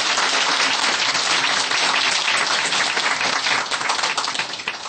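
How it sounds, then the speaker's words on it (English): A crowd applauds a storyteller, dense sustained clapping from many hands filling the room, steady and loud before thinning slightly at the end. "Applaud to the storyteller at least"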